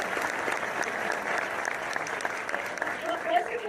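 An audience applauds actress Lily Gladstone at a film press event for Killers of the Flower Moon, with dense, steady clapping from many hands throughout. A voice murmurs faintly underneath.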